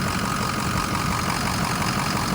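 The 6.0 Powerstroke diesel engine of a truck idles in a steady, loud, unbroken drone with a dense, rough texture close to the motor and no voices over it.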